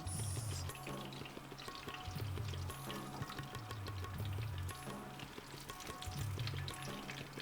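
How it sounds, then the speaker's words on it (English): Onions dropped into hot palm oil in a pan while cooking native macaroni, producing a steady, dense sizzle with a low background hum that continues close and even throughout, with no talk. "So we're going to go in with our onions."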